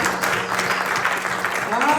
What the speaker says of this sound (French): Est-ce qu'on peut acclamer pour l'Éternel?